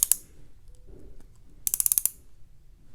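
A Tag Heuer AquaRacer 2023 dive-watch bezel being turned, giving one sharp click and then a quick run of about seven crisp, close ratcheting clicks that sound slightly loose and clanky, with a soft rustle in between.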